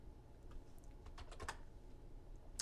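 Keys on a computer keyboard tap out a short, uneven burst of faint clicks while a number is entered into a spreadsheet cell, followed by a single sharper click near the end, with no speech.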